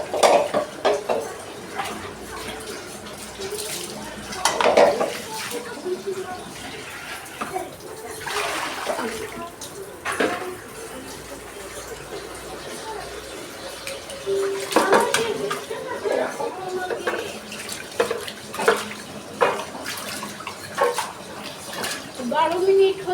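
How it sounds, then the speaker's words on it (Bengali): Dishes and pots are scrubbed and rinsed under running water, with intermittent splashing, clinks of utensils and gushes from the tap, while people talk in the background. "বাসন মাজার হয়ে গেছে"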